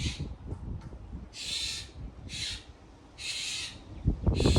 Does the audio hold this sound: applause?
no